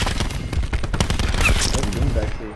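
Rapid automatic gunfire in a first-person video game shooter, loud bursts of overlapping shots running through the whole stretch, with a player's voice talking over the action.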